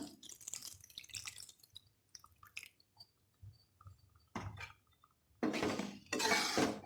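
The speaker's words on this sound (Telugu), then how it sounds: "వాటర్ యాడ్ చేస్తున్నాము కొద్దిగా." Faint clinks and small drips give way to two loud bursts of water poured into a pan of snake gourd tomato curry, close by and splashing.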